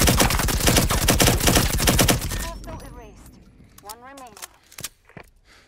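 Rapid automatic gunfire from a first-person shooter game rattles loudly for about two seconds, then gives way to scattered footsteps and faint in-game effects.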